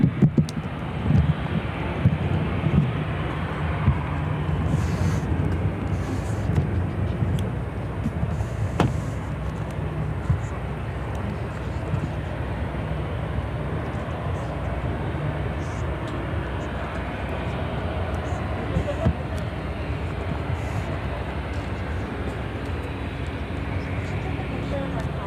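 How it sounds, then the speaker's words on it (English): A Lufthansa Airbus A350-900 arriving from Munich at Chicago O'Hare gives a steady, broad jet roar that stays even throughout, with a brief click partway through and no voices. "We have the Lufthansa A350 next arrival."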